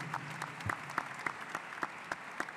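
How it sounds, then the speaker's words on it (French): Scattered audience clapping at a culinary and wine awards ceremony honoring young apprentices, a steady patter of hands with individual sharp claps standing out, fairly even and moderately distant. "On vous applaudit madame."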